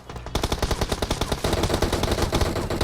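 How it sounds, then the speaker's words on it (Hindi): Rapid automatic gunfire rattles in a mobile shooter video game, a dense burst of fast shots that continues almost without pause and grows slightly louder partway through. "डोमिनिक चाचा ने फायर दिया बैकअप।"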